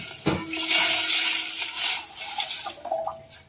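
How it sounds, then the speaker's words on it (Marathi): A pot of water is poured into a hot pan with sautéed spices, a sharp splash followed by a steady rushing pour and a hissing sizzle, close up, then a few drips and clinks. "आणि आता यामध्ये 1 तांब्या पाणी टाकायचं"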